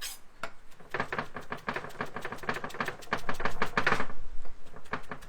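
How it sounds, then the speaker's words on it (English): A knife chops flat-leaf parsley on a board in a fast, steady run of crisp taps, growing slightly louder toward the end, with no one talking. "I'm just going to get a bit and chop it up."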